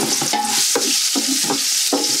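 Onion dropped into a hot pan and frying for Christmas-party balbacua, a steady loud sizzle with repeated scraping stirs roughly every half second, close up and without voices.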